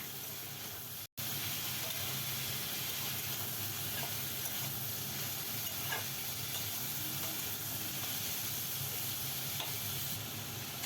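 Vegetables fry in a pan with turmeric and salt, a steady close sizzle and hiss with occasional stirring clatter and one brief dropout near the start.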